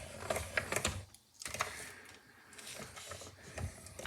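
A hand-cranked die-cutting machine rolls a plate through for a paper-crafting project, giving close, uneven clicks and ratcheting creaks with a short pause partway through.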